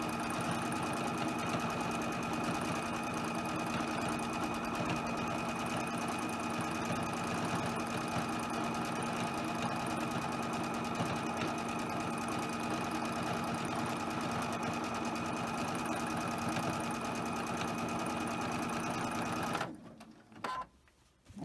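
A sewing machine does free-motion quilting with a darning foot, stitching circles in a steady, fast, continuous whir that runs loud and close for about twenty seconds before stopping abruptly.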